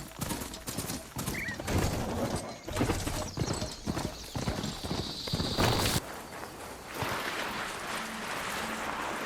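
A rider travels on a machine mount in Horizon Forbidden West, with steady, rhythmic clip-clop hoofbeats and footfalls that are fairly close and moderately loud, easing into a softer ambient stretch toward the end.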